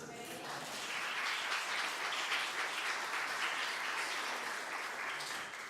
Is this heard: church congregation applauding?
yes